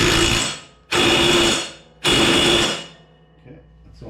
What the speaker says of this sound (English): Tighten that bolt a little bit until it catches.